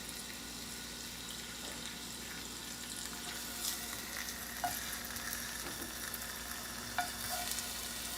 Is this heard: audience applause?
no